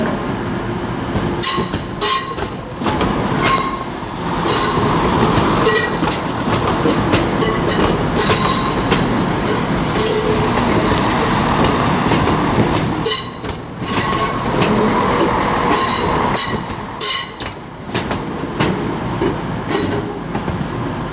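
A Class 176 cross-country train departs Birmingham New Street, rumbling loud and close with rhythmic clickety-clack wheel beats and brief squeals, steady for about twenty seconds without talk.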